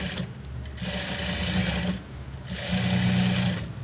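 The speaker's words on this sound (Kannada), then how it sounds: "ಇದಕ್ಕೊಂದು ಸ್ಟಿಚ್ ಹಾಕೊಳ್ಳಿ" A sewing machine stitches a sleeve seam in steady, even bursts, its fast needle clatter running in two long passes with a brief pause between, close and fairly quiet with no talk.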